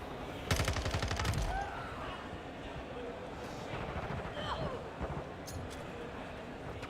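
Gunfire in Modern Warfare 2: a burst of rapid automatic shots near the start, then scattered, fainter shots beneath a steady game-noise bed, with a voice talking over it.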